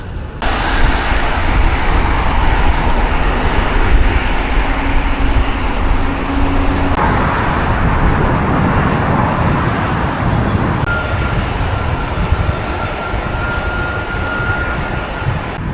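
Steady, loud rushing wind roar buffets the microphone while riding on a road through mountains, a constant broadband blast with no voices.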